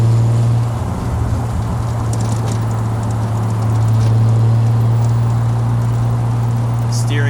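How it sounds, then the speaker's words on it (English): A 1968 Triumph TR250 being driven and downshifted gives a steady, loud, low exhaust drone with a slight shift in pitch midway, heard from inside the car with road noise around it. "The exhaust note is fantastic. Let's downshift it."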